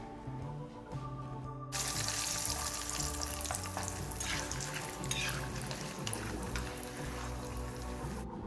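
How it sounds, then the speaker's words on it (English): Steady sizzling and bubbling of sweet banana slices frying in hot oil for chips, growing louder and busier after the first couple of seconds, with no talking. "As the sweet bananas take more time to fry"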